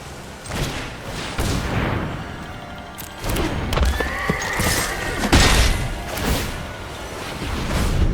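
A horse in a video game whinnies several times amid clip-clopping hooves and occasional heavy thuds and crashes.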